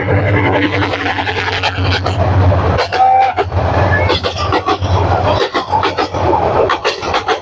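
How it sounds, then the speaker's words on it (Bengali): An intercity train passes close by with loud, continuous rumble and rhythmic clickety-clack from the wagons, with metallic screeches and rattles rising over it toward the end. "আন্তনগর ট্রেন মনে হইতেছে"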